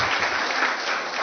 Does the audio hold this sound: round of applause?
yes